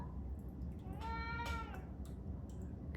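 A single short cat meow, fairly close, over a quiet low background hum.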